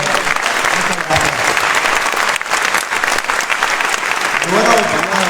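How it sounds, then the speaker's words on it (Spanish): A crowd at a political event in Mexico gives sustained, loud applause that fills the whole stretch, with dense clapping and a voice rising over it near the end. "¿qué les parece si le regalamos otro fuerte aplauso a Juan Carlos de Loreto?"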